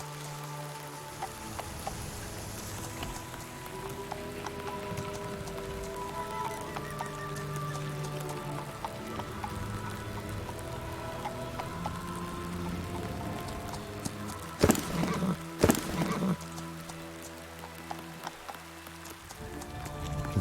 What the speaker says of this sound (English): We must find a shelter from rain and wind